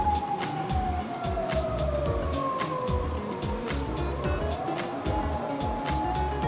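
A police siren wails steadily in the distance, its pitch drifting slowly over rumbling traffic noise.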